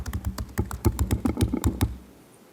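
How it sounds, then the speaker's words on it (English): Fast typing on a computer keyboard: a rapid run of close, crisp key clicks with an uneven rhythm, about a dozen strokes over two seconds before stopping into quiet room tone. "but what if I'm typing fast?"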